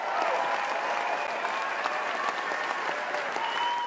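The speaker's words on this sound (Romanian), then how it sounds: "Brad Pitt care, să știi că aplaudă în continuu." Continuous applause from a studio audience on a Romanian talk show, dense and steady clapping that fills the whole stretch without a break, loud and close.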